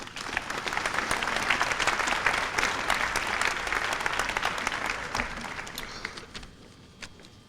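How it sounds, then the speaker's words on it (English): Audience at a 1993 high school senior academic recognition ceremony clapping for students, a full, sustained round of applause that gradually thins out and fades into scattered claps. "Please give them a nice round of applause."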